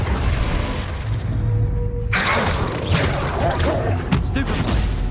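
Confringo, the explosive fire spell in the Hogwarts Legacy video game, goes off with a sudden loud crashing burst that follows a low mechanical rumble and then crackles and decays amid further game clatter.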